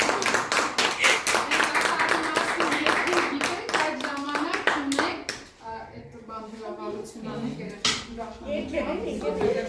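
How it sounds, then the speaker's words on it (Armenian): Children applaud in a classroom, a dense patter of small hands clapping for several seconds that thins out, with a kid's voice and chatter mixed in toward the end. "դե ծափահարենք"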